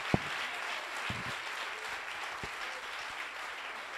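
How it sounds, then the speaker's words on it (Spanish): A church congregation applauds steadily through a Sunday service, a dense, even wash of clapping at moderate distance, with a few sharper individual claps and thumps standing out. "Denle un aplauso al Señor,"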